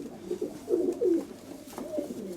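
A lively white-tailed female pigeon gives several close, clear, rolling coos in uneven bursts, with a brief pause between phrases and little background noise.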